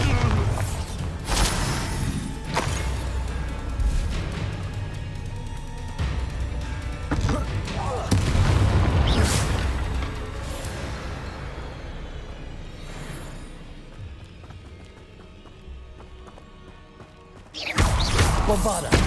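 Loud Bombarda blasting spell explosions from Hogwarts Legacy boom and crash in heavy bursts, several impacts spread across a noisy duel with rumbling debris between hits, and voices are heard among the combat.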